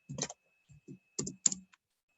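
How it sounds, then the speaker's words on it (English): Typing on a computer keyboard while searching online for a news release document, heard as short irregular bursts of clicking keystrokes with brief pauses, close and fairly quiet, with no talking. "I type in news release"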